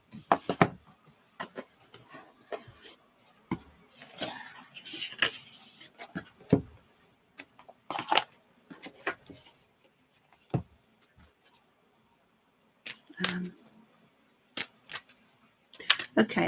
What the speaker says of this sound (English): So let's shuffle the cards.